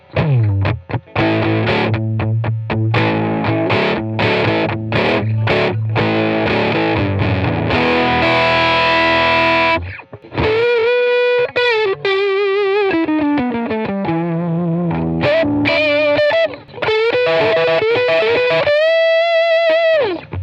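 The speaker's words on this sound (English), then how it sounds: "It's really got a nice crunch, a nice tone. It's a really great distortion pedal." An electric guitar played through a distortion pedal with the gain turned up gives a loud, crunchy driven tone, first sustained chords, then a brief gap and bent, held single-note lines, with no talk.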